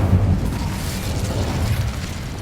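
Fiery Incendio spell blast in the video game Hogwarts Legacy, a roaring whoosh of flame with a booming low-end burst that sustains and fades over a couple of seconds, no voices.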